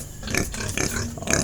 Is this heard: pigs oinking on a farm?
yes